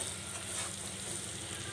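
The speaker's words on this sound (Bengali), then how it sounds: "তো সব কিছু মশলা তেলের মধ্যে ভেজে নিচ্ছি।" Chopped garlic and ground spices sizzle in oil for a cauliflower curry with mustard paste, producing a soft, steady frying hiss with a faint stirring scrape at the very end.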